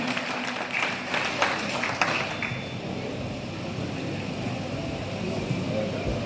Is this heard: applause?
yes